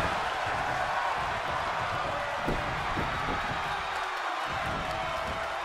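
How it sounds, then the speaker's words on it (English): A wrestling arena crowd roars in a steady, dense wall of cheering and whooping, loud and sustained throughout with no pause. "The sound of this crowd is deafening, and he's asking for more."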